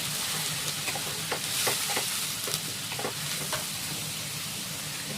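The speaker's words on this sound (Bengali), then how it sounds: "পেঁয়াজটা একটু ভালো করে ভাজতে হবে।" Onion paste sizzles steadily in hot oil in a pan for an egg posto dish, a constant hissing fry broken by soft scraping stirs, close and without talk.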